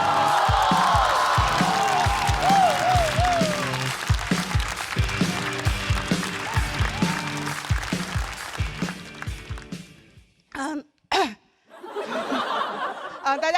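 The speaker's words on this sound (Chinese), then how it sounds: "我们掌声有请房主任" A stand-up comedy stage show audience claps and cheers as an older comedian is welcomed on, the applause running under loud stage music before fading to quiet with a few bursts of crowd noise.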